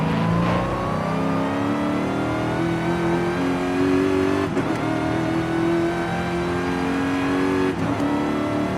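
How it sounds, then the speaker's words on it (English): A Dodge Hellcat in Forza Horizon 5 revs hard, its supercharger whining loudly over the V8 roar as the engine climbs in pitch in repeated pulls, close and sustained with no talk. "Now the Hellcat in Forza Horizon 5 has a really loud supercharger."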